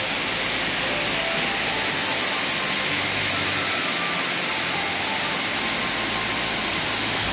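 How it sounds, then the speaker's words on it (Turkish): Yerköprü waterfall in Turkey roars as a dense, steady rush of falling water, loud and continuous with no break, heard up close. "Burası Yerköprü Şelalesi."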